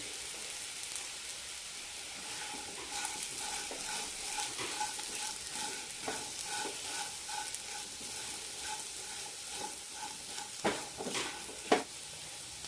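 Colocasia masala fry is stirred in a pan with a soft, steady sizzle under rhythmic scraping of a spoon, ending with a couple of sharper knocks against the pan.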